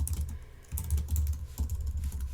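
Quick bursts of typing on a computer keyboard, close and fairly loud, with rapid clustered key clicks separated by short pauses and a low hum underneath, no talking.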